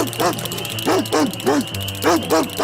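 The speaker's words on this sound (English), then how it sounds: "Suddenly, a big hungry dog came chasing the 2 ducks." A big hungry dog barks in quick pairs of loud, close yaps while chasing ducks, with short pauses between the bursts.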